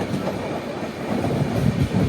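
Jan Shatabdi Express 12078, running on rails between Vijayawada and Chennai near Sullurpeta, heard as a steady rumbling roll with faint rhythmic clatter, close and continuous.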